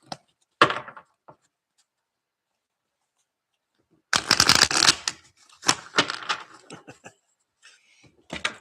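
Tarot cards are shuffled in a few crisp bursts of riffling and slapping, separated by a long silent gap, with lighter taps and card handling at close range.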